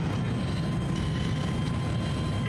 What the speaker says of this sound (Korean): 일단 제이담부터 뿌리고